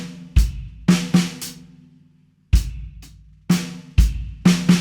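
Drum kit playing a 7/4 groove from a song, with punchy kick and snare hits in an uneven, stop-start pattern, gaps between phrases, close and loud with no talking.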